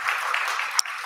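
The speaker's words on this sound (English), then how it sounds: "Can we get a round of applause for William and Angela?" A brief burst of applause for two community speakers at a lecture on energy and environmental justice, steady crowd clapping filling the whole moment, ending with a sharp click.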